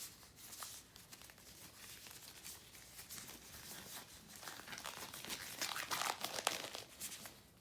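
A sterile paper glove wrapper crinkles and rustles steadily during gloving for a male Foley catheter insertion, growing busier and louder toward the end, with no talk.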